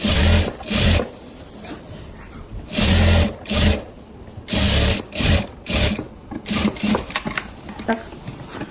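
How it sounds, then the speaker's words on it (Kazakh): A sewing machine stitches a garment collar in repeated close bursts of rapid mechanical whirring, starting and stopping with short gaps between runs. "Ең бірінші осылай тік шығамыз ұстатып."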